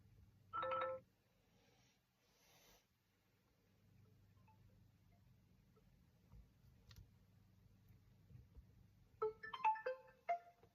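Ringtone played through the speaker of a repaired realme phone: faint, short melodic chime bursts at the start and again near the end, with quiet clicks and background hum between.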